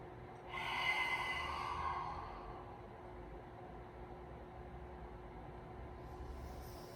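A single deep breath during a yoga session, swelling into a loud, airy inhale-exhale early on, then fading to a faint, steady hush with quiet background hum.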